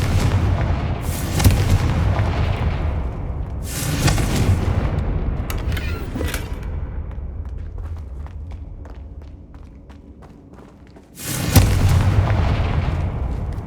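Booming Confringo blasting-spell explosions from Hogwarts Legacy, loud bursts near the start and again near the end, a quieter rumbling stretch with small crackles between them.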